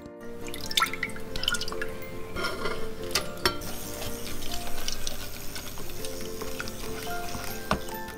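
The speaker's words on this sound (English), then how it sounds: "we're going to take our milk and apple and put them in a small saucepan and heat them up" Milk and apple go into a small saucepan for vegan apple, cinnamon and almond porridge, with close drips, light clinks and patter of pouring over a steady kitchen background and no talking.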